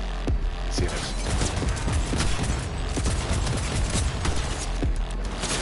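Gunfire in the video game Cyberpunk 2077, played on a PlayStation 4 Pro, crackles in dense, rapid bursts of loud overlapping shots that run throughout.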